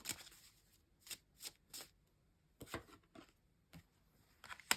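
Tarot cards being shuffled by hand in quick riffling bursts with pauses between them, close and fairly quiet, with no talking.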